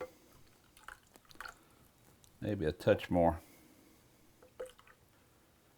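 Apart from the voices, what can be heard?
water added to Korean kalbi marinade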